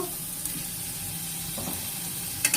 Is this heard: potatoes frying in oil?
yes